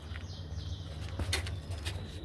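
Pigeons on a home rooftop with a bird tower, giving soft low cooing and a brief burst of wing flapping, steady and close over faint background noise.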